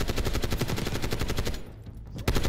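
A light machine gun fires in the Black Ops 6 campaign, rattling off a loud, steady stream of rapid shots up close, breaking off briefly and then starting again.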